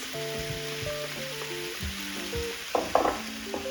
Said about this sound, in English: I'm gonna add the vegetables and then add the lid to it and let it cook a little bit longer.